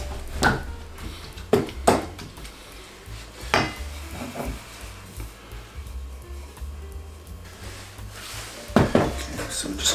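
Irregular clinks and scrapes of a utensil against a bowl as chickpeas are mashed, with quiet pauses between strokes.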